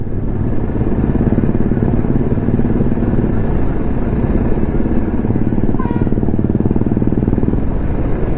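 A group of motorcycles on a weekend ride near Hyderabad, including Royal Enfields, Himalayans, Yezdi Adventures and an FZ, gives off a loud, close, continuous engine rumble that holds steady throughout.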